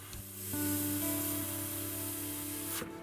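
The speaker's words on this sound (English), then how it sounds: "I'm blowing any dust out of the panel lines with the airbrush." An airbrush blowing a steady hissing jet of air over a 1/48 Hasegawa Junkers Ju-87 Stuka model aircraft to clear dust from the panel lines, a continuous close hiss lasting a few seconds over a faint background hum.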